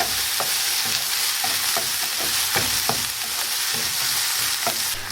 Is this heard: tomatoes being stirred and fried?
yes